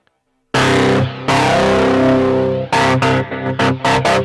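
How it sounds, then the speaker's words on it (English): A distorted electric guitar through a Roland SP-808 distortion effect rings out in a long sustained chord, then several short, choppy strummed bursts follow, loud and gritty. "and this is the distortion."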